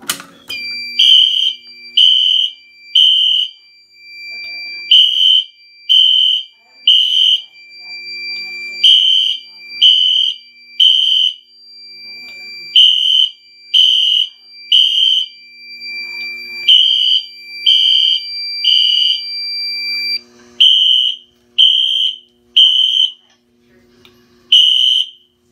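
Fire alarm system under test gives loud, repeated bursts of high electronic beeping in a regular pulsing pattern over a continuous tone, with faint voices talking in the background.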